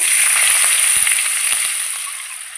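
Carrots tipped into hot oil with a crackling mustard-seed and garlic tempering give a steady, bright sizzle and spatter that fills the whole stretch, with a few soft thuds and clicks underneath and no talking.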